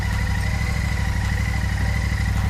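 A heavy, Indian-made motorcycle engine idles close by with a steady, loud, droning rumble. The sound runs unbroken with no talk over it.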